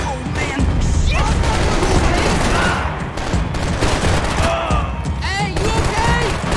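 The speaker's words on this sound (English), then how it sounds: "Gunfire over Hoboken." Sustained gunfire from the video game Max Payne 3, a dense fusillade of shots and booms filling the whole stretch, with voices shouting over it.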